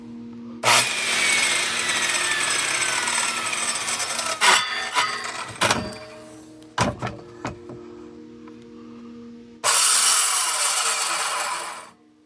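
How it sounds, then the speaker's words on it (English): A circular saw blade spins backwards against a wooden board, giving loud grinding and rubbing bursts with sharp knocks and pauses in between, then one final sustained burst near the end. "Saws aren't supposed to go backwards."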